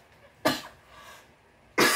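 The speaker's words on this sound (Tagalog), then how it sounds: "sorry, umubo na naman ako." Two sharp coughs, close to the microphone, separated by a short pause; the second is louder and cut off at the end.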